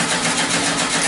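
The air-cooled VW engine of a trike catches and runs, a loud, close, steady rumble across the whole short stretch.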